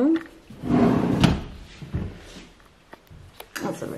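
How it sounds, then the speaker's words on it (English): A wooden drawer of a chest of drawers slides open or shut with a short scraping rumble and a knock, followed by quieter handling clatter and faint movement in a room. "And inside you have a chest of drawer."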